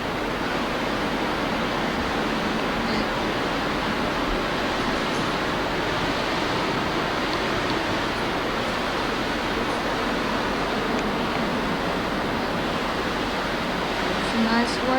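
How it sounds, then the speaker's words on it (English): Ocean waves and surf, viewed from a condo balcony, make a steady, loud broadband roar that fills the whole stretch without clear breaks. "Some nice waves out here."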